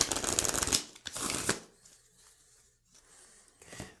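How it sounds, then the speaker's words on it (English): A deck of board game cards is shuffled by hand in close, crisp riffling bursts, two quick flurries followed by quieter handling and a final short ruffle, with no talking. "And then you can go ahead and shuffle up the rest of that deck."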